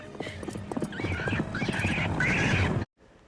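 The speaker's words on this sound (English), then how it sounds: "Come on, horse, get me out of this!" A horse whinnies loudly over rapid galloping hoofbeats in a scene from the 1998 film Bug Buster, the clatter building steadily before cutting off abruptly to near silence.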